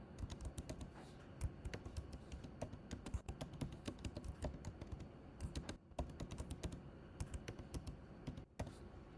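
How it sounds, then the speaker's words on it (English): Rapid, uneven clicking of keys on a computer keyboard, continuous typing up close with brief pauses. "We could keep typing and typing and typing"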